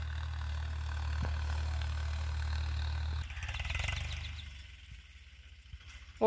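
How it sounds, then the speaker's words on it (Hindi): A Farmtrac 50 tractor engine runs in a field with a steady low drone, then shifts to a faster, pulsing chug that fades to quieter, farther throbbing, with no talking. "स्पीड से नहीं चलाते तो ये मिट्टी मतलब अंदर ही चक्री फरना बंद हो जाती है, इसलिए स्पीड पर चलाना पड़ रहा है ट्रैक्टर को।"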